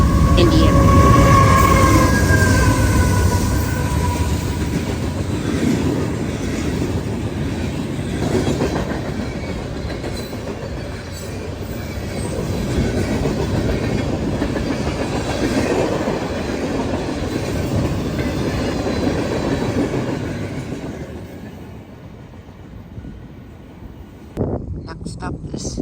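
A CSX westbound manifest freight train rumbles past, steady rolling wheels and rail clatter with a squeal or horn near the start, fading and then quieting toward the end.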